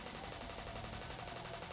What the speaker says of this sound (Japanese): The sound the machine gun made was a lot quieter than what people would imagine, but its power was unimaginable.